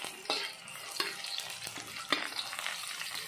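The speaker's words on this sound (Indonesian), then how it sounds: "baru kita masukkan bawang putih dan bawang merah ya. Kita akan kacau nih guys" Garlic and shallots fry with ginger and lemongrass in a pan, stirred with a utensil that scrapes and knocks at intervals over a steady close sizzle.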